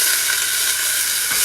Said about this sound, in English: that pan was just screaming, which is exactly what I wanted, because I want to get some brown on these onions